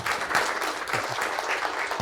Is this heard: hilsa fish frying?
no